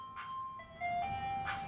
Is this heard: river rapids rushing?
no